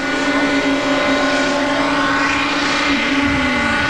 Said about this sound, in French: vont vous montrer tout ce qu'il est possible de faire avec l'hélicoptère modèle réduit